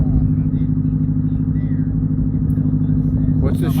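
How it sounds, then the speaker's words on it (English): A British race car engine from the video game The Crew rumbles with a loud, low, steady drone, a sharp burst of noise near the end, while a person talks over it. "nice British race car"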